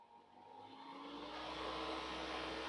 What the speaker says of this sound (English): Fan is spinning.